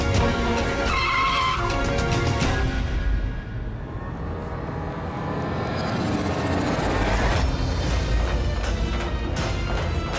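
A car skidding hard to a stop in front of a woman, with a loud tire screech up front, then a rough sliding rumble that fades before a second burst of squealing tires near the end, no voices.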